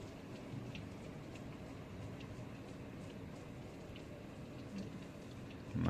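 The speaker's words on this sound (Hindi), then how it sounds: "बहुत अच्छी बारिश है यहाँ पे राजस्थान में।" Steady rain drums on a car during a road trip in Rajasthan, a constant soft hiss heard from inside the vehicle, with a thunder rumble hard to pick out and a brief louder bump at the very end.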